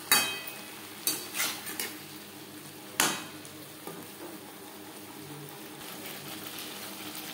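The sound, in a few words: stir-frying vegetables with spices in a pan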